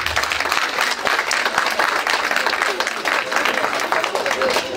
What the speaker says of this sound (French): Je veux que vous l'applaudissiez ce soir parce qu'il n'est pas mort.